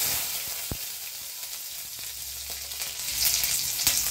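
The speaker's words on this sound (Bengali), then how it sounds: "পেঁয়াজ আর রসুন ভাজা হয়ে গেছে" Chopped garlic from four cloves and half a chopped onion fry in a pan, giving a steady close sizzle with a few sharp ticks and pops.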